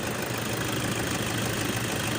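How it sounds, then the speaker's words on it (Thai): A steady, even car engine idle hums without a break after an oil and filter change, a broad low rumble with faint mechanical chatter and no voices. "ต้องบอมเครื่องยนต์อย่างน้อยสิบนาทีครับกันพลาด"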